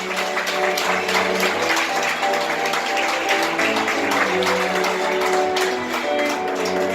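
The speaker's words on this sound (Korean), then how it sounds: "여러분 큰 박수 부탁드리겠습니다" Wedding guests in a Korean wedding hall clap steadily as the bride and groom bow to their parents, a continuous wash of applause running over background music for several seconds.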